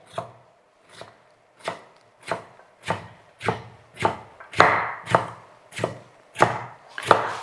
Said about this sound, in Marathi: पाहिजे तर असा एक मधोमध भाग करायचा आणि एकदम बारीक अशी चिरून घ्यायची बघा अशी